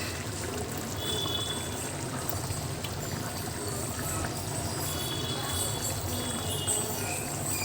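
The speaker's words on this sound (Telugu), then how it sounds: "ఈ మ్యాంగో ముక్కలు రా మ్యాంగోస్ అంటే పచ్చి మామిడికాయ ముక్కలు అయితే వేస్తున్నాను" Raw green mango pieces going into a curry as it cooks in a home kitchen, over a continuous loud bubbling, sizzling wash of cooking noise that runs the whole time without a break.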